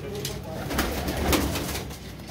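Racing pigeons coo softly and repeatedly at close range, low murmuring calls with a few brief louder bursts.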